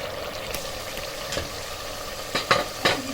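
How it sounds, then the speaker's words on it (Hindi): Arvi gosht, a taro and meat curry, fries in a pan with a steady sizzle while a utensil stirs and scrapes through it, adding a few sharp clinks near the end. "अब इसको हम भून लेंगे"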